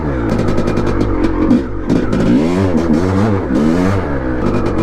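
A rebuilt 1989 Honda CR500R two-stroke dirt bike engine roars loud and close, revving repeatedly up and down in rising and falling sweeps with a continuous raspy drone throughout.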